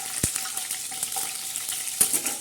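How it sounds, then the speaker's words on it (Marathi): Curry leaves sizzling in hot oil for a tadka, tempering for black-masala stuffed bitter gourd, as a steady hiss and crackle close by with a couple of sharp pops. "आता कढीपत्ता आपला तडका होत आहे"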